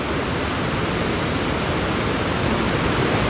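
Flooded Chaliyar river water rushing powerfully, a loud, dense and continuous roar that holds steady from start to end with no voices.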